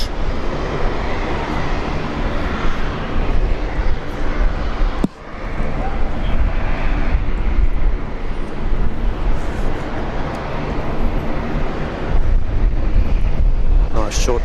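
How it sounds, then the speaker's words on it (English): Steady broadband roar of an Air New Zealand Airbus A320neo on final approach at Brisbane International, loud and continuous with a brief dip, while a voice talks over it. "looks like a Neo on final from Air New Zealand"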